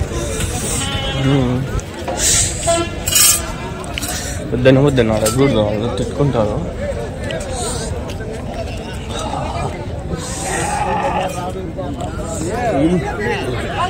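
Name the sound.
sheep bleating at a sheep market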